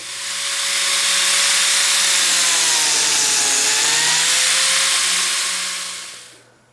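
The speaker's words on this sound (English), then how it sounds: "now I'll get the biscuit joiner and cut all those notches" A biscuit joiner whines loudly and continuously as it cuts notches for 20 gauge biscuits in a wood panel for barn doors, the pitch dipping under load before the motor spins down.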